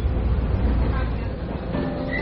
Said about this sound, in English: I've hopped onto the old Pingxi railway line and to one of the older trains